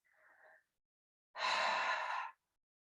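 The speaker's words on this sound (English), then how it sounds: "my ha sounding exhales" Audible "ha" exhales during yoga: a soft breath, a pause, then one long, loud, breathy sigh close to the microphone.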